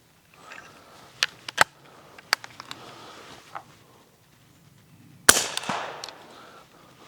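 A Rossi LWC 300 Blackout rifle fires a Sig Sauer subsonic round. Scattered small clicks and handling noises come first, then a single sharp but muted report near the end with a short fading tail.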